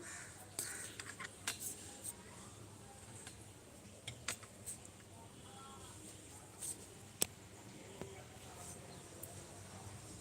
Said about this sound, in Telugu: ఆ యొక్క పక్షుల సందడి